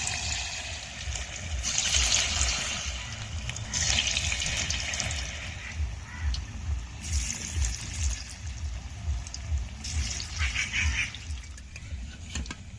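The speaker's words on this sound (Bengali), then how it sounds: "এক এক করে ছেড়ে দেব তেলের ভিতরে।" Cabbage pakoras bubble and sizzle softly in hot oil, the crackle swelling in uneven bursts over a low background rumble, with no one speaking.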